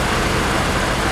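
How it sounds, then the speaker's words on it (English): A 1937 Ford engine running just after startup, giving a steady, broadband mechanical drone, close and continuous with no voices. "I got the car going"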